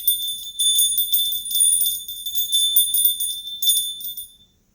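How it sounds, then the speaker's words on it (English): Om bells ring in repeated bright, shimmering strikes that overlap and sustain near the listener, then fade to silence at the end. "So choice number 1 is our Om bells."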